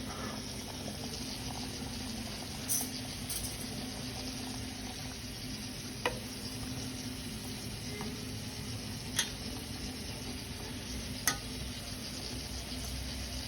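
A covered pan of capsicum, drumstick and tomato vegetable gravy with turmeric, chili powder, salt and water simmers on low heat, giving a soft, steady bubbling sizzle broken by a few faint clicks.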